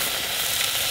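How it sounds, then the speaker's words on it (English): Foraged shoreline seafood such as razor clams, crabs and oysters sizzling in a hot pan, a dense continuous frying hiss, close and loud, in a brief burst. "Fry that up."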